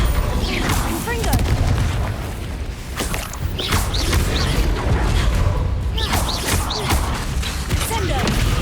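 Repeated booming spell blasts of Confringo in Hogwarts Legacy burst through a noisy fantasy battle, several loud explosions spaced a few seconds apart amid whooshes and clashing effects.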